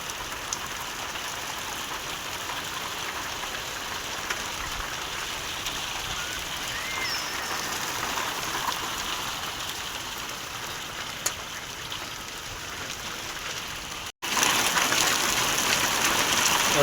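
Heavy rain pours steadily in a rural village yard during a spring storm, a dense continuous hiss close by that surges louder in the final seconds.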